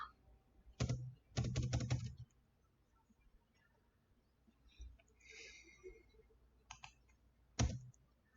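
Bursts of typing on a computer keyboard, close and quiet, with clusters of rapid key clicks separated by pauses and a few isolated taps, alone in a still room.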